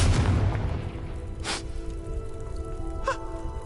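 A Confringo explosion spell goes off in a Harry Potter video game: a loud rumbling blast at the start, followed by two shorter whooshing bursts over a constant low background.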